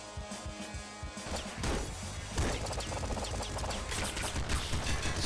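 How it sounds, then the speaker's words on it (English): Rapid dense machine gun fire in the video game Nuclear Throne, with crashing impacts and thuds layered into a loud continuous burst of in-game action with no talk. "It seems like it's some kind of machine gun"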